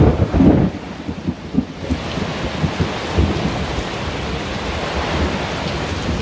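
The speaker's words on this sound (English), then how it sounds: "Ready for the thunder?" Rumbling thunder rolls in the first couple of seconds during a storm aboard a small sailboat, then settles into a steady hiss of heavy rain.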